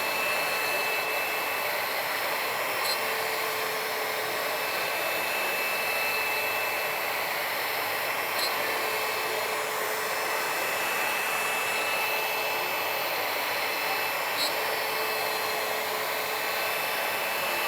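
A small demonstration CNC router cuts at an exhibitor booth at NOMCON 2018, giving a loud, steady, broadband whine and hiss. It runs without a break for the whole stretch, with no talking.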